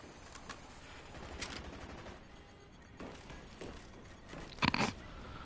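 Gunfire rattles through a Call of Duty Black Ops multiplayer match as scattered shots and short bursts, fairly faint and distant, with one louder cluster near the end.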